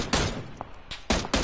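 Gunshots in the battle royale game PUBG come as three or four sharp, loud cracks with short gaps between them, plus a fainter shot in the middle.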